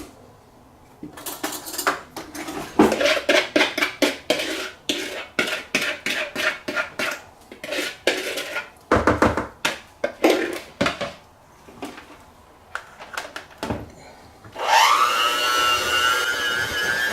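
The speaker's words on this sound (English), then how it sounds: "then we'll use a mixer, spatula, spoon, whatever," A spatula stirring apple rhubarb muffin batter in a bowl, producing repeated scraping clacks and knocks against the bowl in an irregular rhythm, close and clear, ending in a whirring sound.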